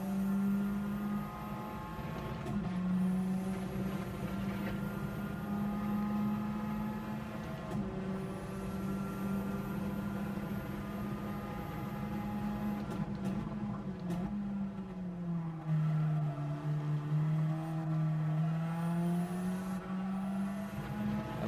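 A Radical SR3 race car in Gran Turismo 7 on the Dragon Trail Gardens circuit accelerates hard in third gear, a steady, loud engine drone whose pitch rises and dips with throttle, alone without talk.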